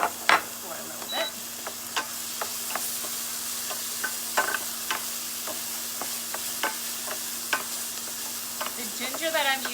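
Minced garlic and fresh, moist ginger sizzle steadily in oil over medium heat, with frequent light clicks and scrapes of stirring, close and continuous.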